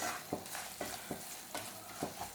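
A spoon stirs prawn biryani masala in a pan, scraping in a steady rhythm of quick strokes over a constant low sizzle, close and fairly quiet.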